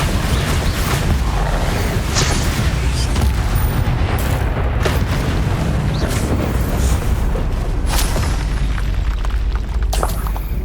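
The Bombarda spell in Hogwarts Legacy sets off a continuous roar of booming blasts, with dense, loud rumbling and several sharp bursts layered over it throughout.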